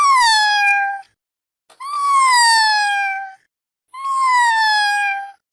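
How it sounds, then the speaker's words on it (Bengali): A cartoon kitten meows three times, each a long, loud, clear call with a short silence between, alone with no talk. "মিউ মিউ করছিস কেন?"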